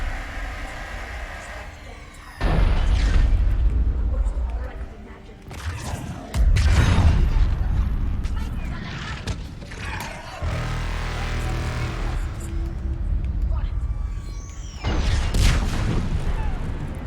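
In the video game Mass Effect 3, a Reaper attack brings heavy booming blasts and deep mechanical groans in repeated loud surges with brief lulls between them.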